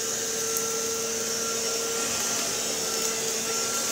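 An Electrolux Automatic Model G vacuum cleaner runs with a steady, even whine and airy hiss, unchanging throughout and heard alone without speech.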